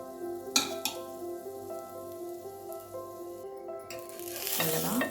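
A cheese bread sandwich fries in oil in a pan, a steady close sizzle running throughout with a few sharp scraping clicks as it is turned, the frying swelling louder near the end over a faint steady tonal hum.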